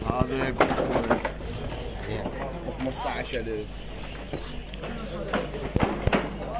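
Pigeons and other caged birds coo and chirp throughout a busy Baghdad bird market, mixed with steady crowd chatter and someone talking prices nearby.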